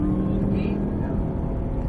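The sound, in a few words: Cadillac V-Series car accelerating at full throttle on track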